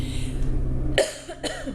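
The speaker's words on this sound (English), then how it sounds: "I still have a little bit of a cough from my cold" Two short coughs from a lingering cold, a sharp one followed by a softer one about half a second later, close to the mic over a low steady background hum.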